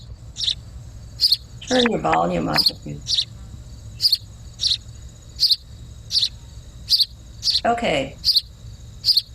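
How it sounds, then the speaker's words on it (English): Library recording of a house sparrow giving short, repeated cheep calls, a regular series of bright chirps running steadily throughout, with a voice speaking briefly over them twice. "This one is a typical noise of a house sparrow."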